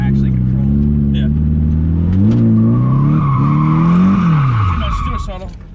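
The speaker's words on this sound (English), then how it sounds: "I need to start with like a controlled donut and actually be able to control it." A Nissan 240SX spins through a controlled donut, its engine droning loud and steady with rising and falling revs while a tire squeal cuts in at the midpoint, continuous for about five seconds before easing off.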